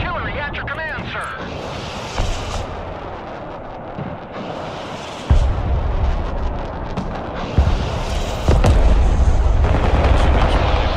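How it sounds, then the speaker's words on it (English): MLRS rocket artillery fires in the online war game Broken Arrow, sending heavy rumbling booms and sustained roaring launches that build louder toward the end under a continuous wash of battle noise. "Hitting with MLRS here now."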